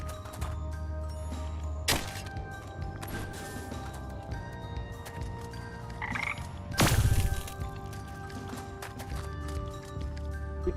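A frog croaks in the video game Wytchwood amid soft ambient game music, with a sharp thump near the start and a louder burst of effects partway through.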